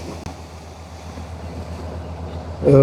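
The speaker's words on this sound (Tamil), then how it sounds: "அம்மா தண்ணி வந்து கொண்டு இருக்கு பாருங்க" Water gushing from a newly drilled borewell about 85 feet deep, a steady rushing roar mixed with wind buffeting, louder at the very end.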